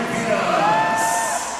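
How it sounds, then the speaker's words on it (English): A basketball crowd at a tournament semifinal in Passi City roars and whoops after a Dragons shot, a loud, sustained burst of cheering filling the whole moment. "the crowd reacting to that shot"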